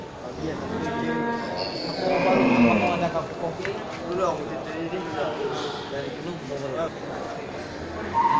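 Cattle at a Bali cattle sale yard moo in a loud, drawn-out low call that rises and falls, with further bellows and general barn noise, while people talk nearby.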